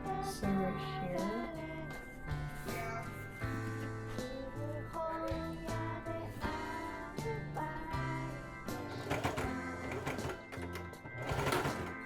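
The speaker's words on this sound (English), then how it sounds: "So I'm gonna go ahead, sew right here, sew right here." Sewing machine stitching fabric on a summer DIY project: loud, close, rapid mechanical whirring and clatter in continuous runs with brief pauses, accompanied by background music.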